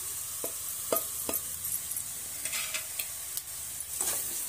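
Ground spices such as coriander powder, garam masala, red chilli powder and turmeric stirred and sautéed in hot oil for a cashew paneer curry; soft scraping stirs recur in short strokes over a faint steady sizzle, close by with no talk.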